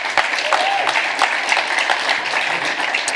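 Audience applause at a Harvard talk, a steady wash of clapping with a few sharper claps standing out, fairly close and continuous, mixed with a faint murmur of voices underneath.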